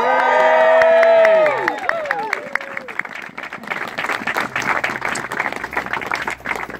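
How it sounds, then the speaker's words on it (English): Crowd applause and cheering at the opening of a cafe in Churchill Gardens, Boscombe, starting with a voice or whoop and then settling into steady, fairly loud clapping that continues to the end. "So why don't we all give Becky a round of applause?"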